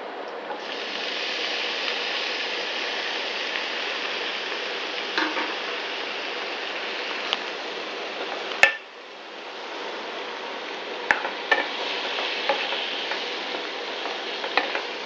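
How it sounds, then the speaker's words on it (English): Tomatoes fry over high flame in a pan for a tomato chutney with chili powder, giving a steady, close, loud hiss. A few scrape and stir clicks break in, with one sharp knock midway. "Let's fry the tomatoes on high flame for some time."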